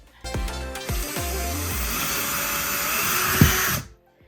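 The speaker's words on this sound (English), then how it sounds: "Now that you've got that drill bit securely in your drill" A power drill spins up with a bit boring into drywall, a brief motor whine and steady grinding hiss that stops abruptly after a few seconds.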